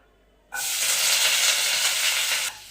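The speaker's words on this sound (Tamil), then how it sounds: "இந்த வெங்காயம் பச்சை மிளகாலாம் போடும்போது ரொம்ப தெரிக்கும்" Onion, green chili, curry leaves and garlic dropped into hot oil, setting off a sudden loud, steady sizzle that holds for about two seconds and then falls away to a quieter hiss.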